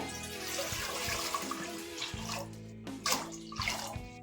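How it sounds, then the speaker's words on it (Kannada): A steady stream of water runs into a pot holding broken rice, close and continuous, its tone shifting as it fills, with a few splashy surges near the end. "1 ಲೋಟ ಅಕ್ಕಿ ತರಿ ತಗೊಂಡಿದ್ದೀನಿ, 4 ಲೋಟ ನೀರು ಹಾಕೊಂತಾ ಇದೀನಿ."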